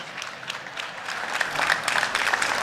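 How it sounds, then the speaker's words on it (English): An audience applauds to welcome a team of presenters on an agriculture innovation stage, a steady wash of clapping that swells slightly and continues throughout without talk. "Let's give them a round of applause."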